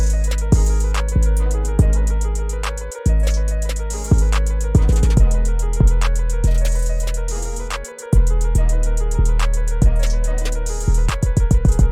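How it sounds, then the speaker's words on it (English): Trap drums programmed in FL Studio: punchy kicks and booming 808 bass with rapid triplet rolls, crisp hi-hats, brief dropouts, loud and continuous with no voices. "So altogether, the drums sound like this."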